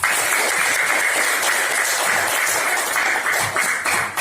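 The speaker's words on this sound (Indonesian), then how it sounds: "Beri tepuk tangan dulu untuk kelompok Jati" Classroom audience claps for a student group after its presentation during a teaching assessment, a loud, continuous patter of many hands that holds steady throughout.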